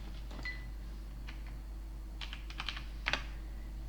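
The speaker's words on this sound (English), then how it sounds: "I'll type it, sorry." Typing on a computer keyboard in a few quiet, scattered bursts of key clicks over a steady low hum, close by, with no talking.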